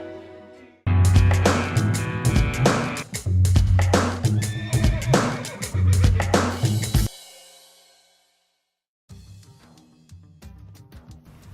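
A horse gives several loud, drawn-out whinnies close by, each with a shuddering, rising-and-falling pitch, then goes quiet before a softer, shorter neigh at the end.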